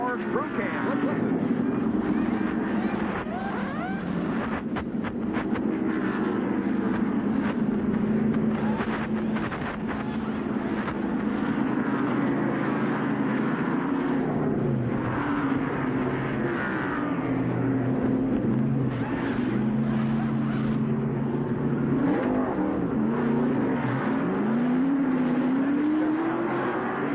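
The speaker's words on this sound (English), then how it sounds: "And here's Rusty Wallace coming into the pits. And we'll watch that pit stop" Rusty Wallace's NASCAR stock car pit stop at the 1989 Goodwrench 500, heard from the crew cam: a loud, continuous roar of race engines and wind-buffeted noise runs throughout, with speech mixed in.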